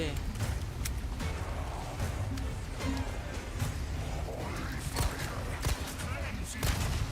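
Dense gunfire in the Resident Evil 4 remake pops and cracks repeatedly over a constant busy din, with scattered louder bursts across the whole stretch.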